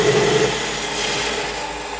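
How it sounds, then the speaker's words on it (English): Lathe parting tool cutting into a metal shoulder, a close, steady grinding whine over the hum of the running machine that eases off slightly after the first half-second, with no talking. "So I've just put the parting tool in, locked it."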